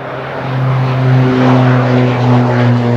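A propeller airplane at Victoria International Airport in British Columbia gives a steady, droning engine hum with a constant low tone that swells slightly and holds for the whole stretch, with no voices.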